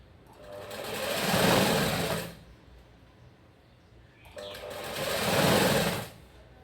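A sewing machine stitches a blouse in two separate runs of fast, whirring stitching with a pause between them. It sounds close and moderately loud, with no talk over it.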